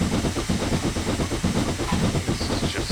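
A steam locomotive in Train Simulator 2017 on the Settle to Carlisle line hisses steadily while gaining speed slowly, with a rhythmic chuffing pulse under a continuous loud wash of steam.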